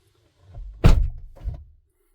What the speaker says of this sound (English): I'm going to go ahead and close the door